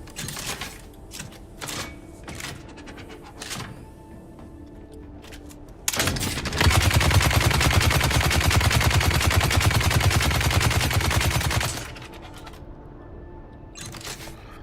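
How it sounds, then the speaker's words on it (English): New weapon firing in the video game Dune Awakening, a sustained loud burst of extremely rapid gunfire lasting about six seconds, preceded and followed by scattered single shots and clicks. "Let's try our cool new weapon."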